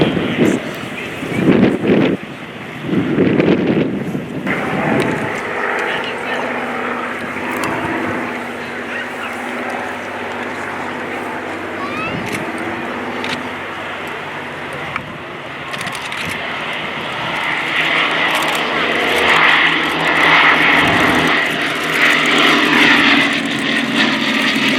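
A Bristol Blenheim twin piston-engine aircraft makes a flypast at a Battle of Britain anniversary air display, its propeller drone building steadily and swelling louder toward the end, with wind buffeting the microphone early on.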